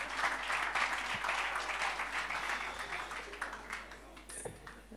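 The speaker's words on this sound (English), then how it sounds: "Please, a round of applause for yourselves once again." An audience at a fashion talk event applauds, a full burst of many people clapping that stays loud briefly and then thins into scattered, uneven claps.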